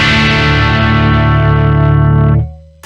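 Dry, unprocessed electric guitar with the Eventide H90 bypassed: a sustained ringing chord that holds steadily for over two seconds, then is cut off abruptly, leaving near silence.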